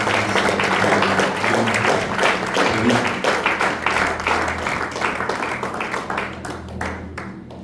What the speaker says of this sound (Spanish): Denles aplausos al Señor.